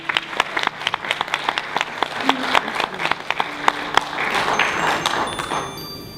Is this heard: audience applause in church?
yes